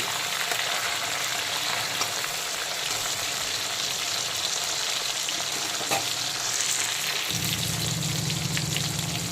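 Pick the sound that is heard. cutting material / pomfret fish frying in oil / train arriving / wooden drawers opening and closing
pomfret fish frying in oil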